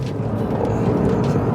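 A Porsche 992 GT3 exhaust drones as a steady low rumble inside the cabin while the car is driven, with road noise underneath and no talking.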